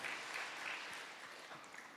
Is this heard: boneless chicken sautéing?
no